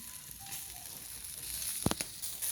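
Pulutan sizzles steadily in a frying pan with a soft, even hiss, broken near the end by a couple of sharp clatters as the pieces are flipped.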